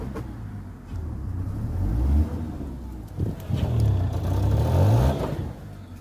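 BMW engine running on an ethanol conversion kit with a fault, revving up unevenly under throttle, a close wavering drone that surges, dips and rises again.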